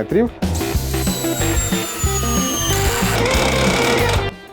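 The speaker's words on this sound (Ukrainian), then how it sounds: "спрацьовує вже тріщітка" Cordless drill-driver driving a 300 mm lag screw, a loud geared motor whine with rapid repeated ratcheting bursts from the clutch, close and continuous for a few seconds.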